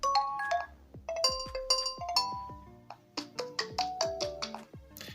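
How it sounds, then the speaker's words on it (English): A Nokia 4.2 phone plays a bright chiming ringtone, a quick melodic run of bell-like notes that repeats with a steady bouncy rhythm, loud and close with no talking. "Then you can select from any of the given ringtones that are provided."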